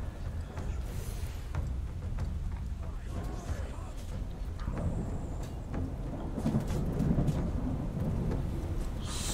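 Steady rain with rumbling thunder in the video game Frozenheim, a constant wash of noise with deeper swells toward the end.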